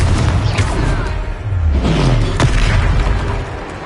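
A Confringo fire-blast spell in Hogwarts Legacy goes off in loud, close booming bursts with rumbling low-end and sharp cracks, repeated over a few seconds of heavy combat noise.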